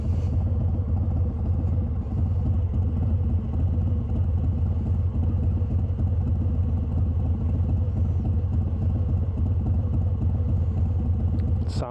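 A 2019 Harley-Davidson Fat Bob motorcycle with a new exhaust idles with a deep, throaty exhaust rumble, steady and close for the whole stretch, with no one speaking.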